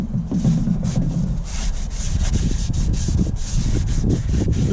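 Rag wiping oil off the brake area near the rotor of a Cadillac DeVille during a rear pad and rotor job, a steady close scrubbing rub that continues without a break.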